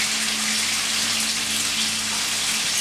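Steady, even sizzling of onions frying in a hot pan, a continuous crackling hiss with a faint low hum underneath and no voices.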